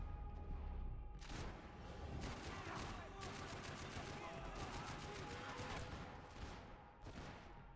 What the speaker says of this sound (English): My golden rocket launcher!